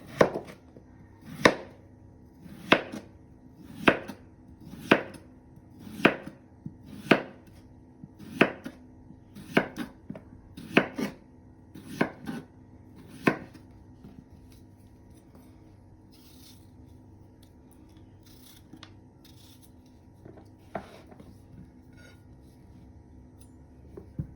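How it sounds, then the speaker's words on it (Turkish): A knife chops through potatoes on a board in about a dozen sharp, evenly spaced strokes, then quieter scraping and handling follows. "6 tane böyle patates soydum. Şimdi doğrayacağım."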